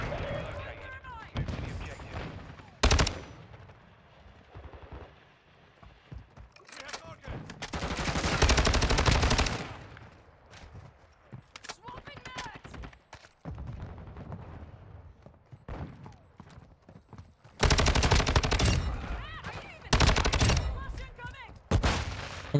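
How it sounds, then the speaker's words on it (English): Modern Warfare 2 match in Shoot House: bursts of close, loud gunfire mixed with flashbang and frag grenade blasts, several heavy sustained bangs and explosions over a long stretch, with scattered rapid shots in between. "And there goes a flash. And here comes a frag. And here comes another flash."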